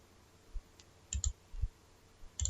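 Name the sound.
computer mouse clicking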